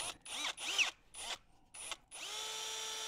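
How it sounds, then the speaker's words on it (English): A power drill whirs in several short bursts with pauses between, then runs one longer steady stretch, drilling a pilot hole in aerated concrete block, close and fairly quiet. "I'm going to drill the strap slightly wider, put in a concrete screw"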